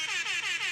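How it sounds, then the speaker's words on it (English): A short, loud air horn blast, a single blaring burst lasting under a second. "you get the honorary air horn for BLE"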